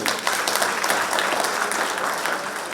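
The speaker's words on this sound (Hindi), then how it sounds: "बीपी सिंह जी के लिए ताली बजा दीजिए" Crowd applause at a Hindi political speech in India, a dense steady clapping that fills the whole stretch at a fairly loud level, with no voice over it.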